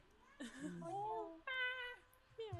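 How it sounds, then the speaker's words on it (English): A pet cat meows in a drawn-out, wavering way with several separate calls close by, while a person talks quietly between them. "my cat is being very ornery"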